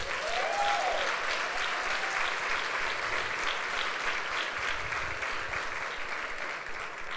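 Sunday church congregation applauding together, a loud sustained wave of clapping that holds steady and eases slightly toward the end, with no speech over it.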